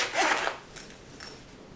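A short zipper rasp on a black nylon knife sheath opens the moment, a quick close pull followed by faint rustling and quiet handling.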